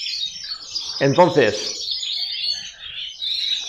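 Pet birds at a bird contest give a short burst of chirping calls near the middle, over a steady high twittering bed, while someone talks briefly.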